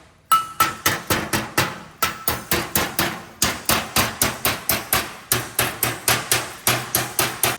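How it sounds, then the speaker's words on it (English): A hammer tapping dross off plasma-cut metal in quick, regular bursts of sharp clinks, close and loud, with brief pauses between runs of strikes. "Just tap that stuff with a hammer and it comes right off."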